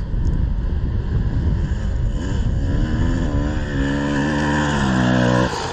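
A race car engine roars loudly nearby as it accelerates in about third gear, its pitch climbing steadily under heavy wind buffeting before it cuts off sharply near the end.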